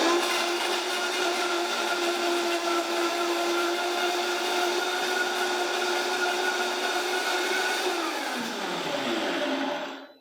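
A blender chopping ingredients for polenta whirs loudly and steadily for about ten seconds, its motor pitch dropping near the end before it cuts off.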